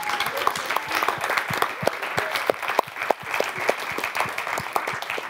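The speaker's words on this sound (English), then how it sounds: "Big clap for her." An audience claps steadily at a prize closing ceremony, a sustained round of applause with distinct individual claps standing out throughout.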